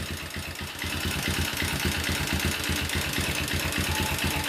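A motorcycle engine idles after starting: a steady, even mechanical putter with a rapid regular pulse begins almost at once and runs loud and close to the end, with no voices.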